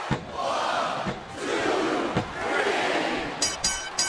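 An arena crowd in the WWE SmackDown vs Raw 2007 video game roars and boos in a sustained, distant wash, with a few sharp impacts cutting through.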